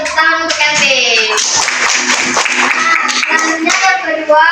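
A class of students claps their hands for a classmate in a teaching lesson, with a burst of scattered clapping under and between a teacher's speaking voice, fairly close.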